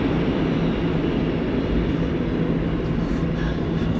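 A train rolls past close to a station, a loud, steady rumble and roar of rail cars that holds without letup for several seconds with no talk.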